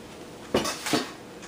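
Dishes clatter as finished pasta is added to a bowl in a home kitchen, two short clinks of bowl and utensils about half a second apart, close and moderately loud, with no talking.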